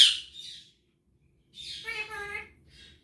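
A pet bird squawks in a kitchen, a sharp shrill burst followed by a pause and then a longer harmonic chirping call, fairly close and clear in a quiet room.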